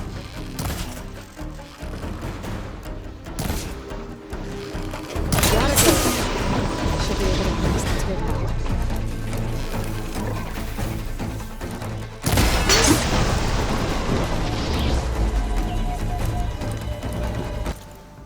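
Explosive fire bursts from a machine enemy in Horizon Forbidden West, two heavy blasts with roaring, crackling fire and debris that sustain for several seconds each, loud and close amid game sound effects.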